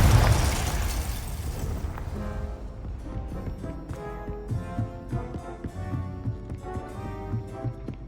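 A Confringo blasting spell detonates in Hogwarts Legacy, a loud broadband boom at the start that rumbles and decays over about two seconds, followed by softer tonal game music and scattered effects.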